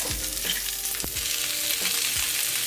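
A hot pan sizzles and crackles steadily with food frying in it, close and loud, with a few sharp pops and stirring scrapes and no voices.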